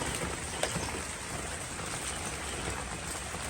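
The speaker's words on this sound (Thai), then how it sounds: "ฝนตก" Steady rain falling, a soft continuous hiss with a faint patter on a surface, fairly quiet and even throughout.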